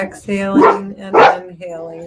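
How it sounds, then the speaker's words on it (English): Dogs indoors bark loudly at a ringing doorbell, two or three sharp, close barks in quick succession while a person keeps talking over them. "pardon the dogs"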